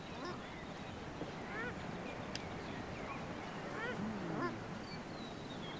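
Paradise shelducks calling by a river in wet Fiordland, New Zealand, with a family of ten chicks led by the parents; repeated honking and quacking calls rise over steady river rush, some near, some farther off.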